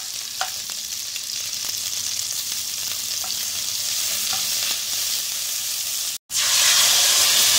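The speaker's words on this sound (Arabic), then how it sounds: "دلوقتي هننزل معلقة زبدة ونعمل الصلصة، وهننزل بباقي الثوم اللي معانا" Butter and garlic sizzle loudly in a pan after cooking minced beef, as a sauce for a pasta casserole is started, with a continuous close hiss and a few faint clinks, briefly cut off before the sizzle returns stronger.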